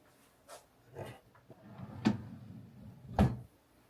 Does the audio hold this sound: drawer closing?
yes